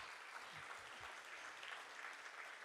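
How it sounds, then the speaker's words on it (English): An audience at a Youth Day event claps steadily, a soft, even wash of applause that sounds fairly distant and continues without a break. "Can we give a hand of applause for each and every one that allowed us to be here today?"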